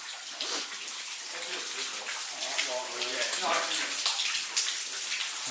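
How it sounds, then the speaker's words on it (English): Water drips and splashes constantly in an underground bunker corridor, a dense, hissing patter like steady rain falling close by, with voices faintly mixed in. "It's definitely raining."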